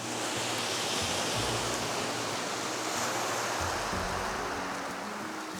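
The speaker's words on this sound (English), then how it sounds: "as it's going out, it's just leaving like these small gaps and like streaks as it flows over the pebbles" Sea waves wash over a pebble beach on the East Devon coast, a continuous broad hiss and rush of surf, loud and close, with no voices.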